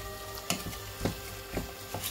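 Bolognese sauce sizzling in a pan as added wine cooks off, with a continuous hiss broken by about four sharp scraping stirs at regular intervals.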